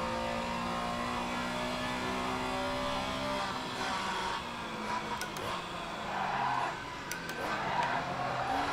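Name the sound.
race car tyres locking up under braking at Imola, racing video game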